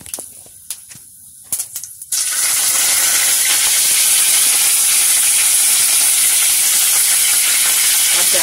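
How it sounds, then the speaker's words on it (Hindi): Curry leaves dropped into a hot oiled pan for sooji dosa, a few light clicks and taps first, then a sudden loud, steady hiss and sizzle that holds to the end. "अब मैं इसमें डालूंगी ये करी पत्ता"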